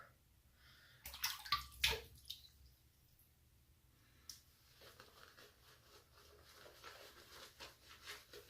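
Brief splashes and trickles of running water in short bursts while shaving, with quiet gaps and soft dripping between them, close by.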